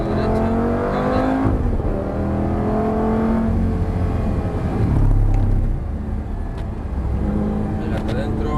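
A Ferrari race car, number 3, accelerates on a track during a driving experience, its engine a loud, continuous roar that swells and shifts as gears change, close up, with a voice giving instructions over it.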